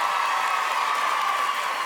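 A French TV studio audience at a hidden-camera lookalike show claps and cheers in a steady, loud roar of mixed applause and voices that holds evenly throughout.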